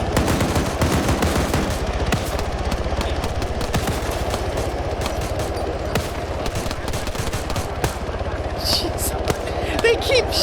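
Dense, near-continuous automatic gunfire from a tactical Arma 3 battle where squads hit each other with friendly fire: rapid overlapping cracks and bursts for the whole stretch, with faint voices under the shooting.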